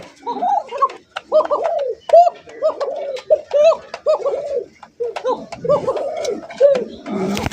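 Fancy pigeons at a farm coo close by in a steady series of soft, rolling calls, several birds overlapping, with a faint voice briefly in the background.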